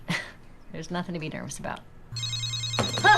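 A telephone in a Parks and Recreation episode rings in a bright, electronic trill that starts after a short line of dialogue and continues steadily, loud and close, to the end.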